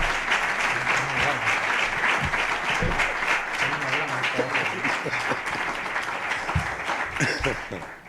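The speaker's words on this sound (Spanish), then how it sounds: "con un fuerte aplauso, que se lo merecen" A large audience bursts into a long, steady round of applause welcoming speakers at a public event in Córdoba, dense clapping filling the hall for about eight seconds before easing slightly at the end, with faint voices underneath.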